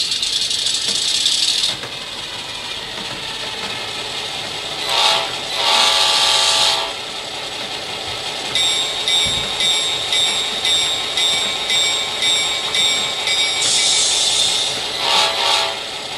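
An HO scale Atlas MP15DC model locomotive with an ESU Select Micro DCC sound decoder plays a diesel engine rumble and rattle, broken by several loud horn blasts and a bell-like ringing, with no talking.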